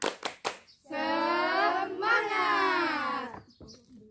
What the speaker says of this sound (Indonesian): ayo kita tepuk semangat terlebih dahulu